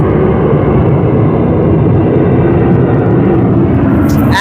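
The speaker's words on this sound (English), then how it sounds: "There's a beautiful aeroplane going above me." A military airplane passes overhead outdoors, a loud, steady broadband engine roar that fills the whole stretch without letup, with no talking over it.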